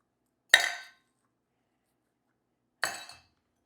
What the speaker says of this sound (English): Then you go ahead and add a couple ice cubes to the other tin.